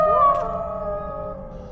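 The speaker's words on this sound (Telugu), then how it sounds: "ఎక్కడో ఊరి చివర్లో అరుస్తున్న కుక్కలరుపులు చిన్నగా వినిపించడం మొదలైంది" A single drawn-out dog howl, used as a horror-story sound effect for dogs crying at the edge of a village, rises briefly and then trails off in a tonal wail over a low background hum.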